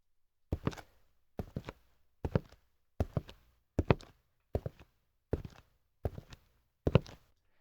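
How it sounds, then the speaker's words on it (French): Footstep sound effects auditioned in Pro Tools, nine separate hard steps at an even, unhurried walking pace, each a crisp close impact with short decay and silence between. "porter mon choix sur les bruits de pas qui m'intéressent"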